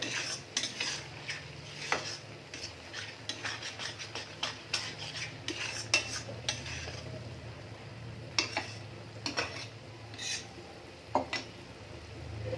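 A spoon stirs potato curry in a pan just after water is added, giving a run of irregular scraping and clinking taps against the metal, with soft background rumble and no talk.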